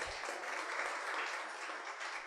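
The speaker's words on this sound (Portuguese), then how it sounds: "Você pode aplaudir o Senhor Jesus nessa noite?" A church congregation at an evening service claps together in a brief, steady burst of applause, fairly distant and even throughout.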